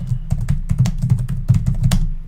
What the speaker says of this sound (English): let me just start typing some stuff that we actually have here